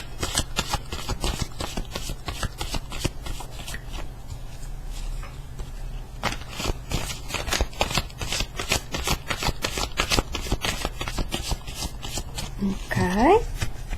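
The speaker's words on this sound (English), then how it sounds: "I've shuffled the cards already" Tarot cards are shuffled in a rapid, continuous riffle of crisp papery flicks, close and steady for the whole stretch, with a voice coming in briefly near the end.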